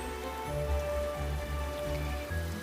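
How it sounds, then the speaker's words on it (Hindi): A cartoon scene of heavy rain gives a steady patter of falling water with soft, low pulsing tones beneath, continuous and moderately quiet. "वो तेज बारिश में भीग रहे होते हैं।"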